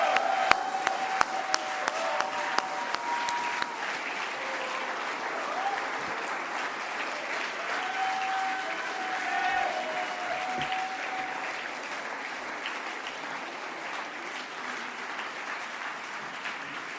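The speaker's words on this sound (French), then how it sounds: "c'est d'applaudir toutes celles et tous ceux qui font le service public à Paris" Sustained audience applause at a political campaign meeting in Paris for the 2026 municipal race, with dense clapping holding steady for the whole stretch and a few faint voices and whistles rising through it.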